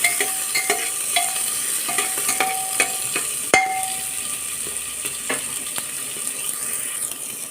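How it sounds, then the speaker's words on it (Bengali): Mixed vegetables stirred and lightly fried in hot oil in a pan, a steady close sizzle with repeated sharp clicks and scrapes of a spatula against the pan, no talking. "এবার আমি এই সবজিগুলো এর মধ্যে দিয়ে আগে একটুখানি নেড়ে"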